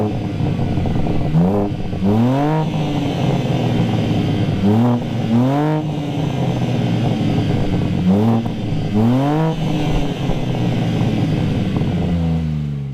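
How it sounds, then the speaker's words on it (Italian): The engine of a BMW M4 Competition G82 starts and runs at a loud idle, blipped in quick repeated revs that rise and fall in pairs, close and continuous throughout. "accendiamo il motore, facciamo due sgasate"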